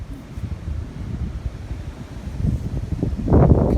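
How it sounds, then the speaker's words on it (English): Wind buffets the microphone in a steady low rumble, gusting louder toward the end, with no voices. "Ooh, it's windy."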